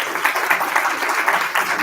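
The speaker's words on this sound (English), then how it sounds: "let's give them one more round of applause" A short burst of applause from a luncheon audience at a women's political group meeting, moderate and steady with slightly pulsing claps.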